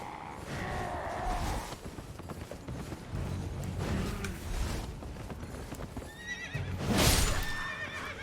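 In the video game Elden Ring, a horse neighs and whinnies loudly while its hooves clop and gallop, with metallic mechanical clatter and a final shrill whinny rising near the end.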